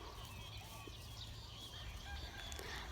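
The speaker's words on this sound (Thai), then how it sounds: "เสียงนกเสียงไก่เนาะค่ะ" Chickens cluck and birds chirp faintly in an outdoor morning scene, with a steady low rumble of background noise throughout.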